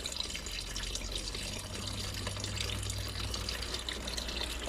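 Engine coolant drains steadily from the water pump of a Land Rover Freelander 2.2 during a timing belt change, a continuous close trickle and splash with a low hum beneath and no talking.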